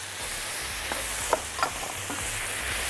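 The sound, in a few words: sauce and vegetables sizzling as stirred into pan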